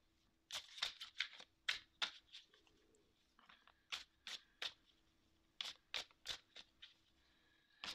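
Tarot cards being shuffled, a series of crisp riffling bursts in irregular clusters, close and moderately loud, with short pauses between them and no talking.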